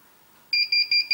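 A 2.5 kW 12 V to 230 V inverter sounds its input over-voltage alarm at about 15.6 volts: four sharp, evenly spaced electronic beeps, loud and close, with no talk.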